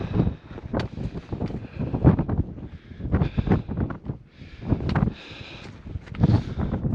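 Strong gusty wind buffets the microphone on the summit of Beenoskee, an Irish mountain, in February, with rough bursts and lulls that surge loudly and dip, close and unsteady throughout.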